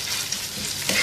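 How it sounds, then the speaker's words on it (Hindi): Liver pieces sauté on a flat tawa griddle, giving a steady close sizzle and stirring hiss that lasts about a second with no voices. "1-2 मिनट सौते करेंगे इसको।"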